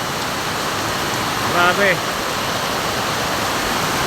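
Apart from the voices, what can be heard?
heavy typhoon rain pouring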